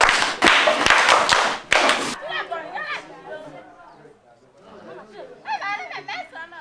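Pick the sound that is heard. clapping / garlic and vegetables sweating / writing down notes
clapping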